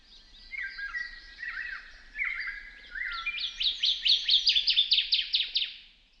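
A pitched-down bird call used for alien jungle game ambience: a series of descending chirps that speed up into a rapid, rising trill, clear and isolated against near silence.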